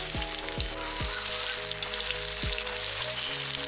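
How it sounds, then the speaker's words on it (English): Paneer cubes deep fry in a pan of hot oil with a dense, steady sizzle and crackle. Several sharp bursts of spattering rise and fade over the top, heard close with no voices. "I'm going to fry the paneer."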